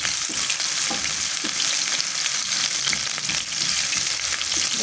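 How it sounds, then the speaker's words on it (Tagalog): Garlic and onion sizzle steadily in a hot pan for a squid stir-fry, a dense, close frying hiss with occasional scraping stirs and no voices. "Next natin ang bawang sibuyas. Ganyan ako mag-gisa guys."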